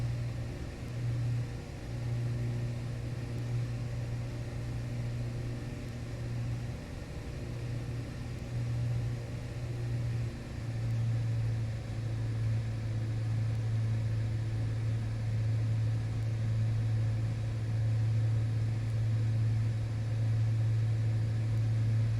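Twin engines of a Carenado DA62 aircraft accelerating in the Prepar3D flight simulator, a steady droning hum with a strong low tone and broadband rumble holding at an even level for the whole stretch, with no talk.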